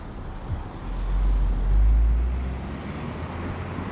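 A car rolls up and parks close by on an empty road, a low engine rumble swelling to a peak and fading, under steady wind noise on the microphone.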